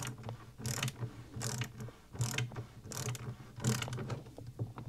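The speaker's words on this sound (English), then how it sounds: "And we'll tighten it up snugly, not over tight, with the 3/8 inch" A 3/8 inch wrench tightening the gas tube nut on an M1A rifle, giving a steady series of close, quiet ratcheting clicks in repeated short strokes.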